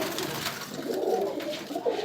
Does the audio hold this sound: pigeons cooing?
yes